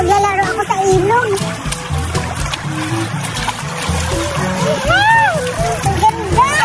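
A child plays in a river, with splashing and trickling water sloshing near the microphone under continuous cartoonish voices talking over it.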